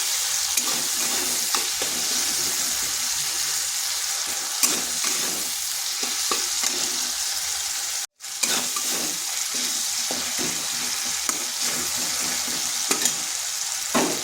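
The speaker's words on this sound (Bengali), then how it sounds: "এরপর এটা একটু কষে নিচ্ছি যাতে আদার কাঁচা গন্ধটা চলে যায়" Ginger fries with ivy gourd and potatoes in a pan, a constant hissing sizzle over about fourteen seconds, broken by occasional spatula scrapes and one brief cut to silence, close and loud.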